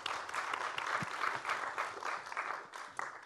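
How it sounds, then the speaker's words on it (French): Applause from the audience at a philosophy lecture event in Monaco, steady dense clapping throughout at moderate, slightly distant level, without speech over it. "Oui, applaudissements"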